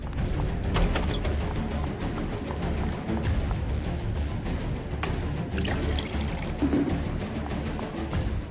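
Water poured continuously in a steady splashing stream, loud and close, running without pause for several seconds amid a dramatic scene.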